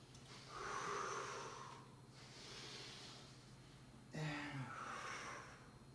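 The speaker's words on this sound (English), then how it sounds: "Inhale and exhale. And exhale down." Slow, deep yoga breaths during a restorative evening session, a long airy inhale followed by a drawn-out exhale and another breath, close to the ear with no talking.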